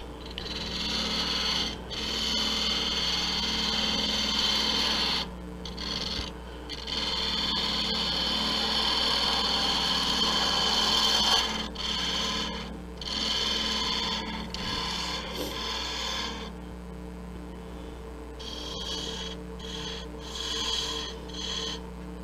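A spindle gouge cutting wood on a lathe, a steady close rasping and scraping over the motor's hum, with brief pauses and breaks between passes.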